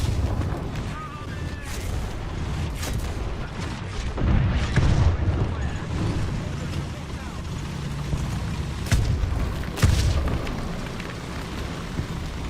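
Artillery fire in the War Thunder video game, heard from an LVT(A)(4) light tank. Several booming blasts land over a continuous rumbling, water-like background, with the sharpest reports near the middle and again toward the end.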